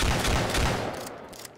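Striker shotgun in Left 4 Dead 2 fires loud, dense blasts in quick succession that fade out over about a second, with no talking.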